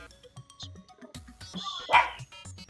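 A small white dog barks and yips a few times, close by, with a louder sharp bark near the end, amid quiet background sounds and some voice.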